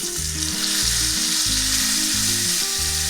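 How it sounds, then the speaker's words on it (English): Steak edges searing in a very hot pan give a steady, loud sizzle with no break, close up and running alone without any voices. "It only takes a few seconds on each side to sear the edges."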